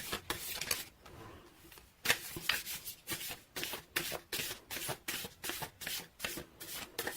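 A Whispers of Love oracle card deck being shuffled by hand, close and quiet, with quick repeated riffling bursts in a steady rhythm and brief pauses between them.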